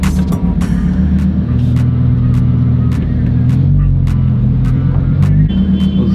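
A Lamborghini Huracan EVO drives with a loud, close engine rumble and hum that rises and falls slightly. Regular clicking ticks sound over the steady drone.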